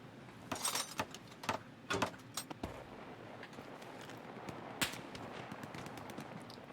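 Gunfire from the World War II shooter Hell Let Loose: scattered, distant-sounding bursts and single shots crackle across the clip, with a few sharper, louder reports standing out against a steady background wash.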